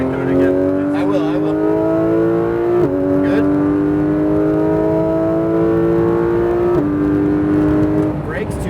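A Porsche GT3 RS engine drones loudly as it accelerates around the Exotics Racing track in Las Vegas, its pitch climbing steadily and dropping at two upshifts, with an instructor talking over the engine.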